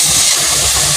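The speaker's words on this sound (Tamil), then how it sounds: "வெங்காயம் தக்காளி அதோட சேர்த்து வறுக்கலாம்." Onions and tomatoes frying in a pan give a loud, steady, close sizzling hiss that stays constant throughout, with no other sounds.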